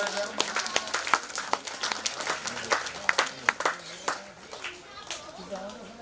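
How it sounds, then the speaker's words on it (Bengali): A burst of clapping from an audience at a prize distribution during an Urs festival at a dargah in Tulsiberia, irregular hand claps rising and falling over several seconds, with voices mixed in. "জোরে করতালি হয়ে যায়।"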